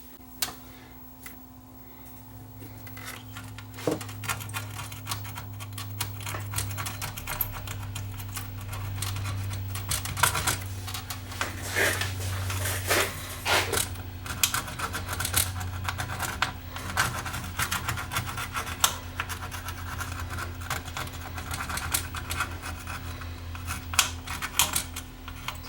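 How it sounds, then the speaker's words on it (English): Old circuit glue scraped off a circuit board inside a JVC RX-R76 receiver, many small rapid ticking and scratching strokes over a steady electrical hum, close and fairly faint. "It's old circuit glue, we're going to scrape this out of the way."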